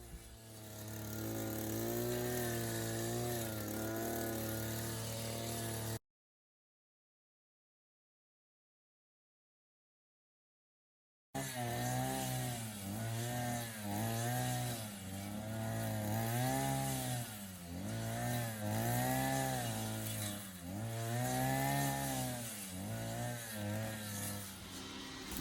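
Brush cutter slicing through tall grass in a garden in French Guiana, its loud two-stroke engine droning and rising and falling in pitch as it bogs into the grass, cut off by a pause before resuming.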